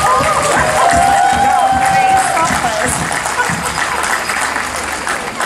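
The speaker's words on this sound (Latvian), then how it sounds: "Sagaidam viņas ar aplausiem!" An outdoor crowd at a folklore day evening in Vērmane Garden, Riga, claps to welcome two folklore experts, steady dense applause with some cheering and voices mixed in throughout.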